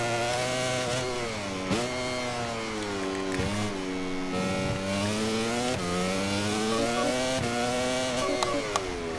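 A racing motorcycle engine screams around the COTA circuit in the video game MotoGP 24. It stays loud and high-revving throughout, with sharp gear changes and repeated rises and dips in pitch as the bike accelerates and brakes.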